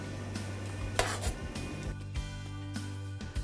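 Olive oil being stirred into tomato sauce in a cooking pot, with Sicilian seasoning: a spoon scrapes and clinks against the metal pot in a few quick sharp knocks over a low steady hum, close by.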